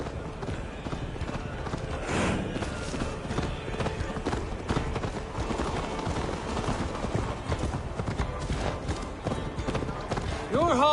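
Horse hooves gallop in steady clip-clop beneath a busy mix of game sound and voices during a ride in Assassin's Creed Valhalla, with a dense, continuous soundscape throughout.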